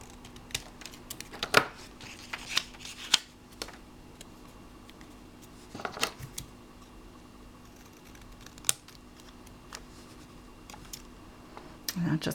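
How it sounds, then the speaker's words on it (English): Scissors snip roughly through paper to cut banners, giving a few sharp, close clicks and short cutting strokes scattered between quiet pauses. "I just cut 2 banners really roughly"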